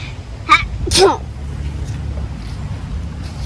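A single close sneeze from someone on an outdoor trail, a short sharp burst over steady low background rumble, followed by quiet ambience.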